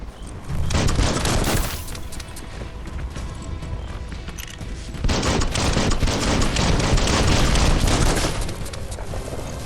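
Sustained video game gunfire in Biomutant as an enemy is shot down, with loud dense bursts of rapid shots and booming impacts filling nearly the whole stretch.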